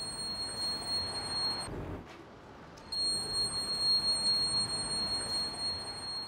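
An emergency ring bracelet sounds its alarm in a city: a steady, piercing high two-tone beep that cuts out for about a second, then resumes over a constant low urban rumble.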